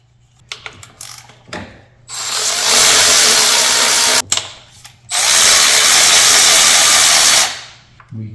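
Two long, loud bursts of a power tool whir close by as it spins off 12mm fuel rail nuts on a Honda Element, set between short clicks and mechanical handling sounds.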